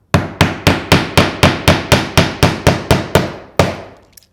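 Cap nails hammered into battens during an air-sealing install, about thirteen sharp, ringing blows in a steady, evenly spaced rhythm, close and loud, with a short pause before the final strike.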